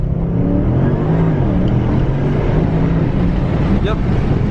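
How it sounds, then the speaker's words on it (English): A 700 whp Porsche Panamera Turbo makes a launch-control start, its engine roaring loudly and steadily from inside the cabin as the car accelerates hard throughout. "We're gonna go ahead and launch the Porsche Panamera and see how this goes."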